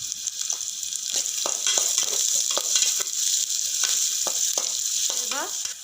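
Chopped onions sizzle steadily in hot oil in a pan while being stirred for a Kannada kalu palya, with close scraping strokes of the spoon cutting through the continuous frying hiss.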